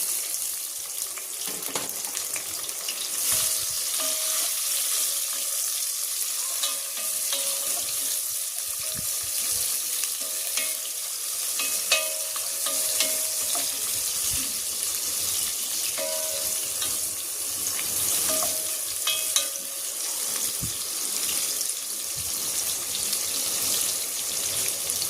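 Ginger and onion frying in a pan for adobo, a continuous soft sizzle with light crackles and occasional clinks, no voices over it.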